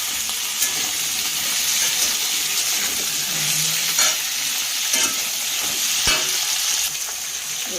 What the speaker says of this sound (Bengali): সবজিগুলো ভাজা হচ্ছে